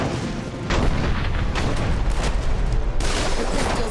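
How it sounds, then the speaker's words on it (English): Cannons fire at crystals in the PC/console action RPG Dungeon Siege 3, a dense, loud run of booming blasts and rumbling impacts that overlap continuously with no gap. "Look, over there! Ready the cannons!"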